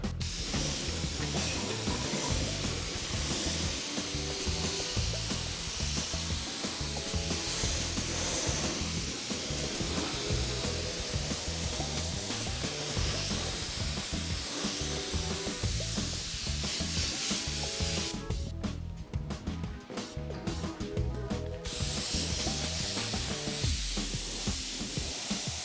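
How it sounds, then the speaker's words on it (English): Automotive primer is sprayed in a continuous, fairly loud hiss that runs nearly the whole time, with a few short breaks late on and no talking. "And I'm ready to start spraying."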